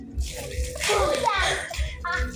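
A tub being filled with water to bathe a child, splashing and gushing close by under a voice and an adult talking.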